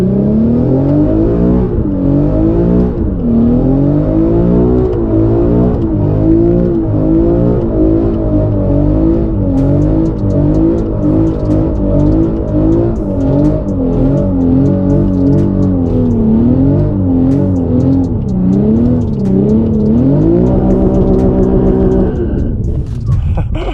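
A twin-turbo Audi R8 with roughly doubled horsepower accelerates hard, its loud engine climbing through the revs in repeated rising sweeps between gear changes, heard from inside the car without pause.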